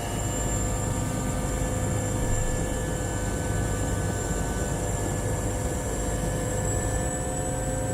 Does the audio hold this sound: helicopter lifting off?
yes